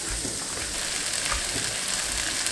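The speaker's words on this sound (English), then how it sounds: "the chicken's been frying for about 3-4 minutes now" Chicken sizzles and crackles steadily in a hot pan, a continuous close frying hiss with small pops, no voices.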